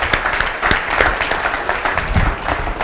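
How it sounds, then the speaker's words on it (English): Round of applause from an audience at a 2016 customer service awards ceremony, dense steady clapping throughout at moderate volume. "Let's give them a round of applause."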